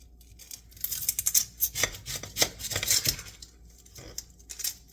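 Knife slicing through raw chicken during home meal prep, a busy run of crisp cutting, scraping and tapping on a board, close and fairly loud with no talking.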